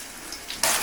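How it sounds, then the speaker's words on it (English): A BARROCK warm water bidet sprayer spraying in a shower, a steady hissing rush of water that surges louder and brighter partway through, with no talk. "I'm testing it on the shower so you guys can see how powerful it is."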